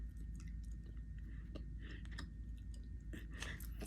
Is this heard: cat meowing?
no